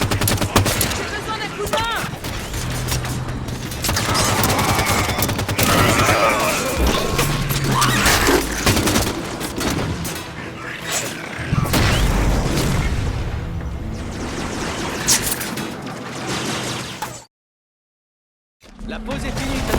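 Enemy turret fire rattles through a Halo 5 campaign battle on Legendary, with dense bursts of gunfire, crashes and booms in near-continuous heavy volleys, a brief silent gap near the end, and voices speaking amid the combat.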